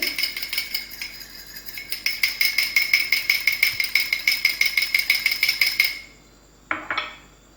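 An egg being beaten for coating chicken balls: a fork clicks rapidly and steadily against a bowl in close, even strokes for several seconds, then stops, followed by a single clink.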